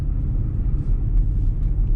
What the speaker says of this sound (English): Everybody out blowing their driveways.